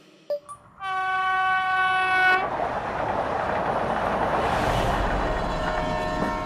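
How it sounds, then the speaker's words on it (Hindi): A train races at full speed, first sounding a loud, sustained horn blast for a couple of seconds, then continuing as a steady, heavy rumble of wheels and carriages rushing past. "ट्रेन फुल स्पीड में दौड़ रही थी।"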